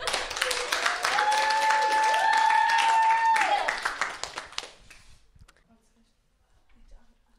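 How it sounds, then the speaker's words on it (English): Audience clapping and applause for a school band at a studio show, fairly close and moderately loud for about four seconds, with a short sung or whistled tone over it, then tailing off into a few scattered claps and near silence. "Let's give them a warm round of applause."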